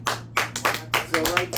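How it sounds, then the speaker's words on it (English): A small classroom round of applause for a student comes as scattered, separate claps in an uneven rhythm, with voices talking over them. "Shall we give Anthony a round of applause again?"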